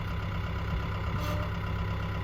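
A Mahindra 1640 tractor engine idles steadily at full idle, a constant low rumble with a faint high whine, close and unbroken, with no talking.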